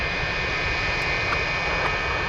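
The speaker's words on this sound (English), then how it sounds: "We have MD-11 pushing back" MD-11 jet at Anchorage airport during pushback, a steady loud engine roar with a sustained high whine, constant and fairly close with no voices over it.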